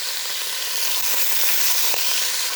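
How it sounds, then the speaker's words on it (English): Pork pieces browning in batches in a hot pan over high heat, for pork in pasilla sauce, give a steady loud sizzle with a few faint scraping stirs. "and then start browning it"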